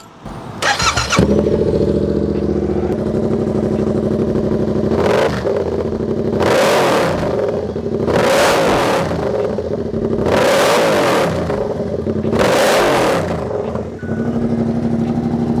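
A Yamaha R7 sport motorcycle with a Toce aftermarket exhaust cranks to life with a loud, throaty exhaust, then idles roughly between several sharp revs that rise and fall at regular intervals.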